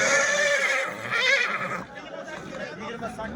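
A horse whinnies loudly at a livestock market in Kattaqo'rg'on, the call rising and falling over the first two seconds, with market chatter and talk continuing around it.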